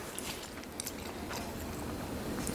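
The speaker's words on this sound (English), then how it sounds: "Even after I bite into the crust, the air pockets." Close crunchy bites and chewing on a crisp gluten-free pizza crust, a dense crackling texture filling the short moment without talk.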